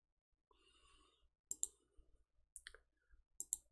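Computer mouse clicks, a few sharp close clicks in pairs spaced over several seconds, faint and isolated in a quiet room with no speech.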